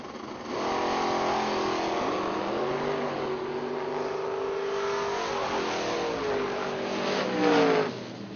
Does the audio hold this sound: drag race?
yes